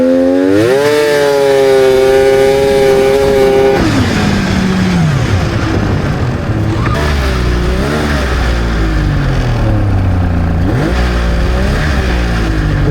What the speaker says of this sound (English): I'm out here warming up Patti